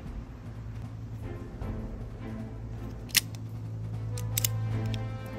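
Stainless steel Smith & Wesson Model 64 snub-nosed .38 Special revolver with a 2-inch barrel having its action worked, giving a couple of crisp metallic clicks over a low steady hum.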